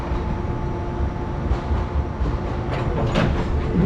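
JR 415 series stainless steel train in 12-car rapid service rumbling steadily past on the Kagoshima Main Line, low continuous rolling noise with faint rail clatter, fairly loud and without talk.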